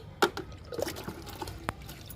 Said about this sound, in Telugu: లిక్విడ్ ఇస్తున్నా